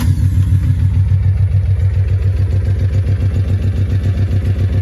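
A Kawasaki Mule 3000 utility vehicle with a new battery, its engine prone to spitting and sputtering on acceleration, runs at a steady, loud, close-up idle with an even, throbbing pulse. There is no talking.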